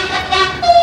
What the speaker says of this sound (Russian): Train to Marseille, probably.